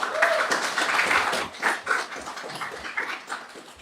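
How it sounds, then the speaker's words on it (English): An audience applauds at a school safety prize-giving ceremony held by a Ministry of Education, a dense wash of clapping that swells and fades in uneven bursts, moderately loud throughout. "we must give a round of applause"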